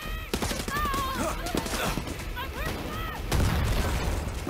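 Mortar fire in Far Cry 6 thuds and bursts repeatedly amid chaotic gunfire and explosions, loud and layered, while a voice talks over the barrage.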